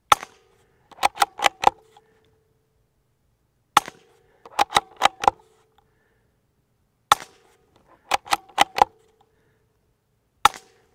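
Suppressed gunfire from a full titanium modular silencer, each soft shot followed by sharp cracks of bullets striking a dry dirt berm, in repeating groups of four or five, outdoors with no talking.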